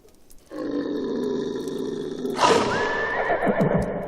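Horse neighing in the werewolf video game Sang-Froid: a sustained harsh whinny rises out of quiet and turns into a louder, shrill, wavering neigh, near and prominent.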